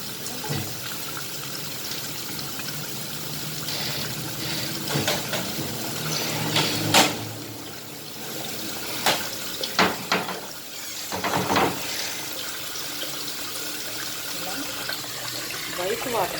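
Tap water runs steadily into a kitchen sink while raw chicken is washed, with intermittent splashes and clatters, and a voice talks over it at times.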